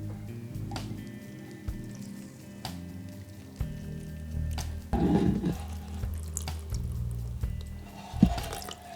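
Water runs from a sink tap indoors while a houseplant is held under the stream, a steady close splashing that shifts in tone as the flow hits leaves and soil, with occasional drips.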